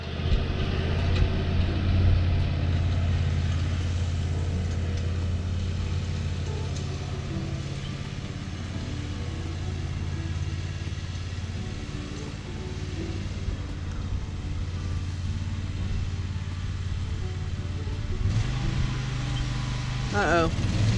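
A farm tractor loaded with fertilizer and lime runs steadily for the whole stretch, its low engine drone droning on with some wind buffeting the microphone.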